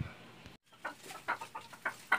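Chickens clucking softly in short, irregular bursts, fairly close but quiet, after a brief moment of silence.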